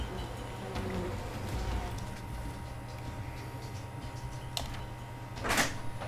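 Bees buzzing in the We Happy Few video game: a steady low drone persisting throughout, moderately loud and close, with a few brief clicks and a louder burst near the end, no talk.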